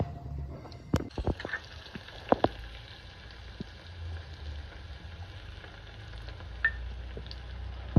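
Garlic frying in a pan for a Maharashtrian vadi curry, a steady soft sizzle with scattered sharp clicks and spoon scrapes, close and unaccompanied by talk.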